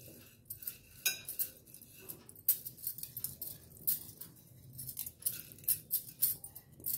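Washed sorghum grains tipped into a microwave bowl, with scattered close clinks and rattles of grains and wet utensil against the dish at an uneven rhythm, no voices.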